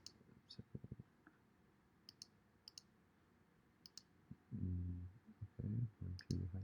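Keys on a computer keyboard click in a quick burst of light taps, then a few scattered single presses, faint and close, with a louder low thumping near the end.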